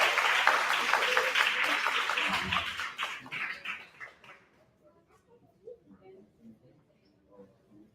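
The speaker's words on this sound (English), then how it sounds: "Let's give Baba Bomani another round of" A graduation audience applauds loudly for about three seconds before the clapping thins out and fades, with a voice over the crowd.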